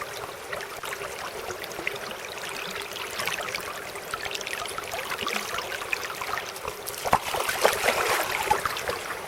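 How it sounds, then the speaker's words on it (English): Cold stream water trickles and splashes steadily into a container outdoors, close and continuous for several seconds and a little louder near the end. "I'll fill it up with water from the stream, which is really cold"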